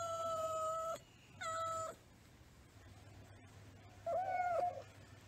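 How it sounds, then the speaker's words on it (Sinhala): A cat meows three times in a quiet yard, two clear, even calls close together, then a wavering third after a short pause, each standing alone over a low steady hum. "බඩගිනි වුණාම, හොරතල් වෙන්න උවමනා වුණාම පූසා කෑ ගසනවා."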